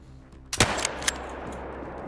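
A single sharp crack of a .22 Magnum rifle in Hunter Call of the Wild, close and loud, followed by a brief echo and a second fainter report, over quiet outdoor ambience.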